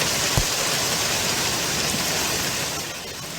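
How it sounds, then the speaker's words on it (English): Nickel-sized hail falls steadily in Duncanville, Texas, a dense, even hiss of pelting ice filling the scene at constant loudness, with a couple of sharper nearby impacts standing out. "Now that's the sound of nickel-sized hail falling in Duncanville, Texas."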